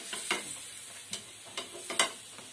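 A pizza base cooks in a pan on a medium flame on the stovetop, giving a soft, steady sizzle with a few light scraping ticks over it, close by and with no voices.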